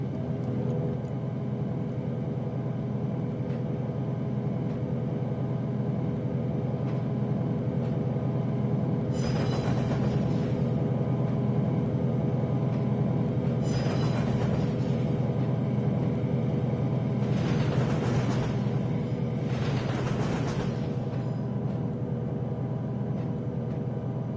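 A diesel locomotive in Trainz 12 backs a string of tank cars at a granary. A steady, deep engine rumble and droning hum run throughout, broken by several bursts of hissing air or squealing noise. No voices are heard.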